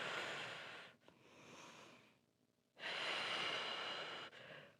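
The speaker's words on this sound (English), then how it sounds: "Breathe it out." Slow, audible breaths during a Pilates bar core exercise: a long exhale, a short pause, a softer breath, a quiet gap, then another strong, drawn-out breath close to the microphone.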